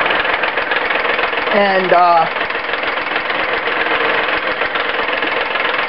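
A wood lathe hums and rattles steadily during wood turning, a constant close mechanical drone, with someone briefly speaking over it.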